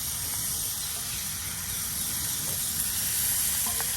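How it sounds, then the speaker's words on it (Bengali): Small catla fish frying in hot oil and being turned over in a village kitchen, giving a steady loud sizzling hiss throughout with a few faint clinks and no talking. "দেখুন তেলের সাথে মাছগুলো উলট পালট করে একদম ভেজে নেওয়া হচ্ছে।"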